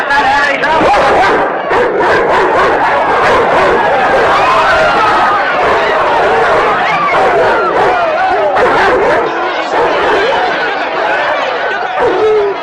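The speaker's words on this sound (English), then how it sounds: "Get those dogs out of here!" A pack of dogs barks and yelps continuously and loudly at close range, with a crowd's shouting and general commotion mixed in beneath the barking.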